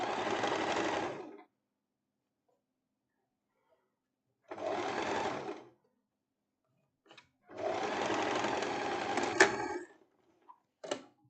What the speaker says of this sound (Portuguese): Eu já venho costurando aqui a parte da minha cava